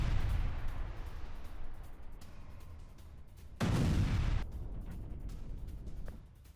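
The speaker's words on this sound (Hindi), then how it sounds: "हॉवित्जर से यूक्रेनी सैनिकों पर हमला किया है रूस ने" Russian howitzer artillery fires on Ukrainian posts, a distant rumbling barrage with one heavier boom-like burst in the middle, continuous low thunder with no voices.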